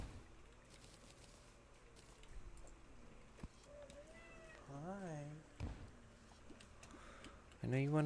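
Pet cats eager to go outside meow repeatedly indoors, a few wavering, insistent cries rising in loudness toward the end, with quiet ticking and a person speaking softly nearby.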